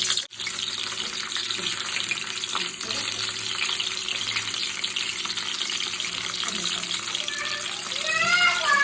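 Stuffed pointed gourds frying in hot oil, a continuous bright sizzle and crackle with a voice speaking briefly over it.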